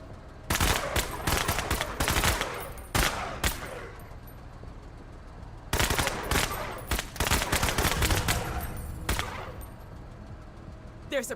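Bursts of rapid gunfire from shotguns and submachine guns in a video game's expert mode, two dense clusters of shots separated by a short lull, loud and close, with no talk over them.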